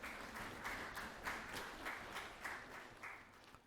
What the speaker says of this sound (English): And again, give them a round of applause.